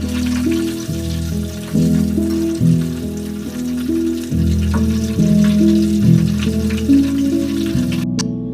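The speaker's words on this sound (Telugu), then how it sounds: "ఈ విధంగా మీడియం ఫ్లేమ్లో పెట్టుకొని మనం ఫ్రై చేసుకుందాం అండి" Cabbage pieces deep frying in hot oil over a medium flame for restaurant-style mixed vegetables, giving a loud, steady bubbling sizzle that swells and recedes in waves throughout, with no talking.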